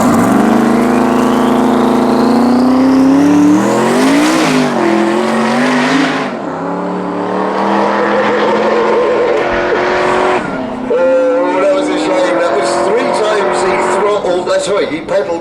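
A no-prep drag race car launches with a loud, close engine roar climbing in pitch, then a break as the back end spins up, tire squeal and revving as the throttle comes back on, with a voice talking over part of it.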